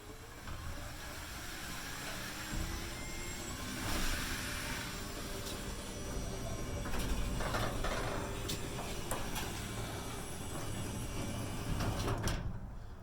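A Genie 6170 wall-mount garage door opener raising the door: a steady mechanical rumble and rattle of the moving door runs continuously throughout, fairly close, with no talk.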